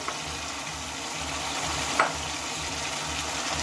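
Boiled mung dal going into spiced oil in a pan with cabbage: a steady broadband sizzle and frying hiss throughout, with a brief louder stir or clatter near the middle, no talk.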